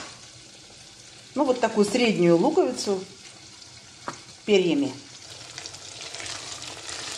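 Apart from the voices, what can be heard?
meat sizzling in frying pan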